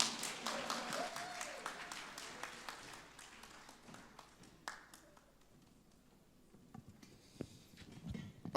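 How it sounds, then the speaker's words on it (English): Audience clapping at a panel discussion on AI governance, a burst of applause that is strongest at the start and fades into quieter room sound with a few scattered taps. "Kakanfo, can you clap for me?"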